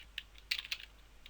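Fingers typing code on a computer keyboard make a few faint, quick, irregular clicks close by, alone over a quiet background hiss.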